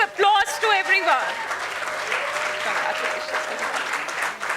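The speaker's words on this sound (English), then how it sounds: "please give a big round of applause to everyone" A convocation audience bursts into sustained applause, with a speaker's voice over a microphone at the start before the clapping settles into a broad, even wash.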